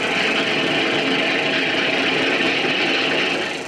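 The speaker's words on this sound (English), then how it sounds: "They taxi out from the aprons to the runways" 1950s airliners taxiing from the apron to the runway, a dense steady drone of piston engines with a rough vibrating texture, loud and continuous, slightly fading at the end, with no talk.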